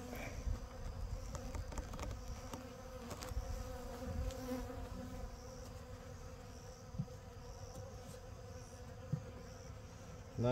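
Honeybees on comb in a hive give a faint, steady buzzing hum with occasional individual bees droning past close by, under small handling clicks.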